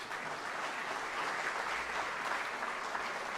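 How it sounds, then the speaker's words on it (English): A hall of fame ceremony audience for a university athletics program gives soft, distant applause, an even wash of many hands clapping throughout. "would you give them a round of applause, please?"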